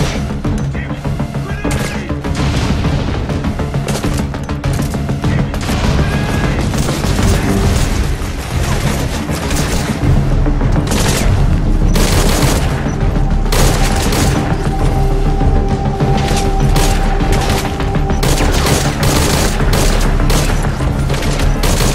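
Dense gunfire and booming explosions from the video game Metal Gear Solid V Ground Zeroes, a continuous loud barrage of shots and blasts that goes on without a break, with no talking.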